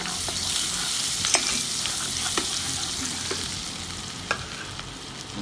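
Butter sizzling in a pan while cooking coq au vin, a soft steady hiss with a few small sharp crackles and pops, close and quiet, with no speech.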